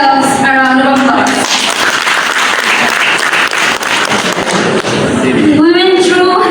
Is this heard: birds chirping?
no